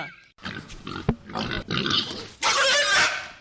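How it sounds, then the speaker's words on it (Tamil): Crossbred pigs, native black pigs crossed with Large White Yorkshire, grunt loudly and close up in bursts of rough snorting and oinking on a pig-breeding farm. "கலப்பின பன்றி வளர்ப்பை பத்தி தெரிஞ்சுக்கிட்டேன்ல என்னது பன்றி வளர்க்குறியா"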